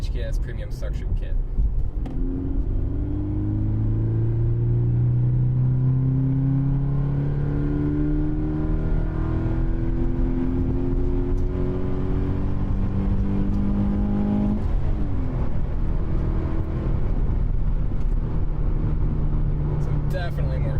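A Toyota GT86 fitted with a TRD sound changer and an HKS intake accelerates uphill with windows up. Its engine drone rises steadily through the gears in a deep, loud cabin hum, and someone talks over it.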